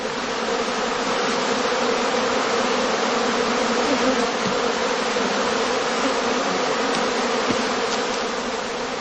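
A dense, continuous drone of honeybees at a heather skep apiary in swarming season, with many wingbeats blending into one loud, close, unbroken hum and no voices.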